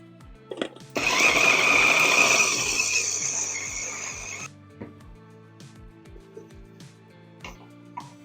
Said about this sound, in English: Now we're just going to go ahead and grind up our trimmings. Just put them in the food processor here.